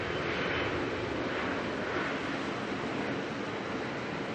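An airliner at Auckland Airport rolls out on an intersection departure bound for Wellington, its engines a steady, broad roar with wind-like rush that holds loud and even throughout, no voices over it.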